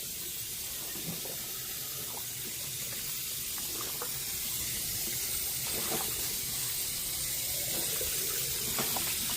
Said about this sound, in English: You want to rinse your turkey really good.